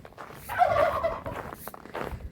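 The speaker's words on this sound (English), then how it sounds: "Just turkey." A turkey gobbling on a small farm among chickens, goats and ducks, one rapid warbling gobble burst up close, followed by softer clucks and fowl chatter.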